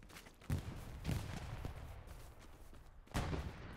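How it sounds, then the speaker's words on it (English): Sniper gunfire in Hell Let Loose, a World War II shooter: three distinct sharp, moderately distant shots spaced over a few seconds, with low rumbling battlefield noise between them. "Snipers picking people off."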